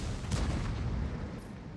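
A tank cannon fires in the World of Tanks battle, a single deep boom rolling out early and fading into a low rumble, set against steady ambient battle noise.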